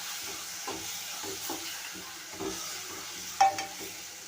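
Dried fish masala is stirred in a pan, with soft, faint scraping strokes in an irregular rhythm over a quiet hiss and one brief louder clink near the end.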